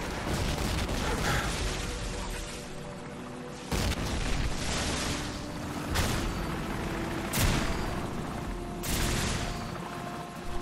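Rapid gunfire and booming explosions fill a Call of Duty Modern Warfare firefight, with dense bursts and several heavy blasts over a constant loud battle din.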